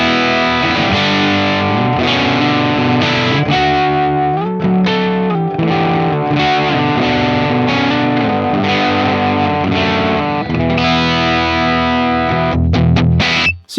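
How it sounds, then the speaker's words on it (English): Guitar through a Zander Circuitry Surplus overdrive pedal, gain at about halfway and level near 60%, plays sustained chords with gritty, moderately driven distortion, loud and continuous, with no talk over it. "So you can hear it's kind of overdriven, it's kind of getting really gritty there"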